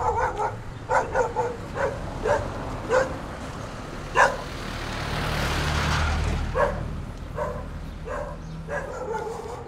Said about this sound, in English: even though the dog is really, really barking at me